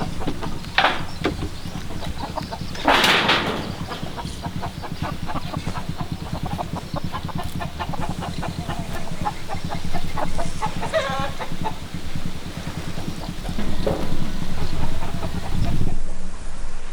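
Several loud rooster crows in a tropical village farmyard, with clucking and fowl calls between them, close by and continuous over a low outdoor background, and no one talking.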